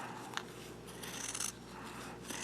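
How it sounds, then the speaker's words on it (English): Scissors cut fabric around the edge of a plate, giving a soft, continuous rasping snip at low level, with a few brief louder crisp cuts near the start and middle. "run my scissors along the edge of the plate. So I'm just going to cut all the way around."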